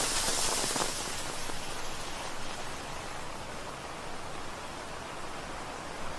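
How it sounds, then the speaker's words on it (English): Steady rain falls through a forest, a dense, even hiss that is slightly stronger at the start and then holds constant and close throughout, with no voices. "Rain sounds are very soothing."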